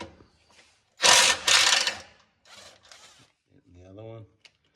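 Cross member bolts are undone on a Toyota 4x4 during a transmission mount replacement: two loud, harsh bursts of mechanical rattling come close together, followed by softer shorter bursts. A voice speaks briefly near the end.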